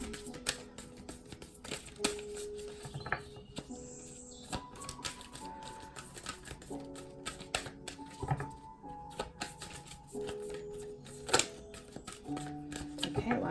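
Tarot cards are shuffled during a card reading, with repeated riffling, flicking and soft slapping of cards in irregular bursts, close and faint, while a person speaks softly over it.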